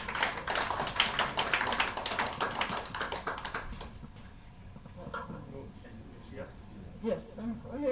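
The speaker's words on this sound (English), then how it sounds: "A round of applause for our Director." Audience members at an aviation trade union forum clap for a director in a dense burst of applause that fades after about four seconds, followed by people talking.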